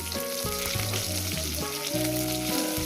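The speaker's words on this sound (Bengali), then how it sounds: "বেগুনগুলো ভেজে নেব তো বন্ধুরা বেগুনগুলো আমার ভাজা হয়ে গেছে" Eggplant pieces fry in hot oil with a steady, close sizzle throughout, while a tonal musical background plays underneath.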